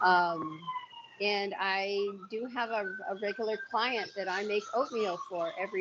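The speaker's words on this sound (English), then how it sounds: "You can hear that siren going by." A siren wails past outside a home kitchen, its long rising and falling tone running faintly beneath someone talking throughout.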